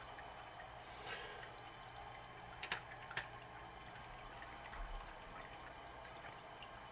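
A Cyansky M3 titanium 16340 flashlight sits submerged in water, with steady low water churn and a few brief splashy bursts near the middle, quiet overall and without talk.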